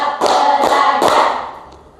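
Three quick, crisp group hand claps land in a tight counted pattern, loud and close, then fade into the room's lingering echo.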